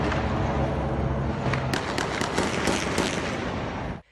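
Gunfire rattles during a shootout in Complexo da Maré, near the Linha Amarela, with dense rapid cracking shots and sharp reports over a constant loud roar, ending abruptly.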